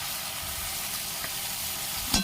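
Thick fish pieces fry in hot oil on a stove, producing a steady, close crackling sizzle throughout, with a brief sharper clatter near the end.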